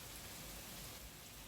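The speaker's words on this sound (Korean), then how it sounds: "빗소리가 우레같다." Heavy pouring rain makes a dense, continuous hiss, steady and even throughout, at a faint level with no other sounds.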